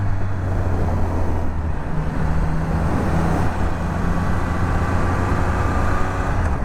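Triumph Speed Triple 1200 RS three-cylinder motorcycle engine droning steadily at speed, a continuous loud low hum with wind rush, no talk over it.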